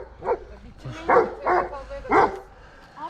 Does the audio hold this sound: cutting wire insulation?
no